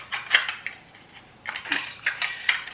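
Metal cutlery is slid into a small cardboard holder made from a toilet roll, giving a close, bright series of clinks and rattles in two bursts, no talking.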